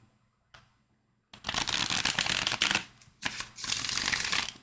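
Tarot cards being shuffled up close in several quick riffling bursts separated by short pauses, fairly quiet, with no talking.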